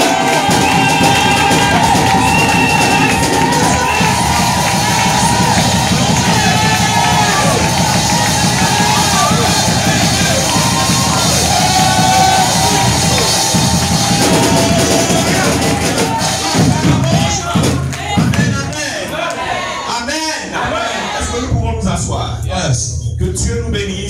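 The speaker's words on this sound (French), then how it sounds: "Est-ce qu'on peut acclamer notre Seigneur," A church congregation cheers, shouts and acclaims at a French-language evangelical service, a loud sustained crowd roar with whoops and yells that thins toward the end as a voice speaks over it.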